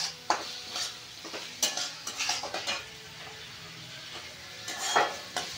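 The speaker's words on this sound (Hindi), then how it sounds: "अब इसको धीरे से इसको मिक्स करके पकाया जा रहा है" Vegetable manchurian with red chilli is stirred in a frying pan: a spoon scrapes and clinks against the pan in irregular strokes over a soft, steady sizzle.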